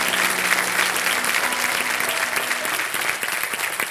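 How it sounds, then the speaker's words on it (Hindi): Studio audience applause for contestant Sumit on the KBC Season 13 quiz show: a dense, steady wash of clapping from a large crowd that holds at an even, full level for the whole stretch with no talk. "तो सच में मैं ताली बजाना चाहूँगा इस सुमित के लिए"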